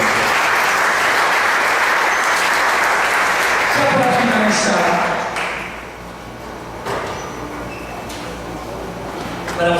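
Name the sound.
applause for the Lord in church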